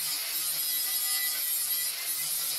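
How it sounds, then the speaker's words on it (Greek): An angle grinder rounds over the edges of a pine wood bathroom shelf, giving a steady, continuous, close abrasive hiss with no pauses and no voices. "προχωράμε με τον τροχό σπάζοντας τις γωνίες"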